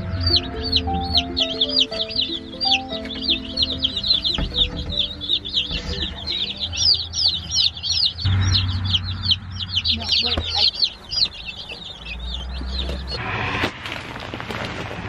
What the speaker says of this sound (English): I'm gonna use this bag first to feed the chickens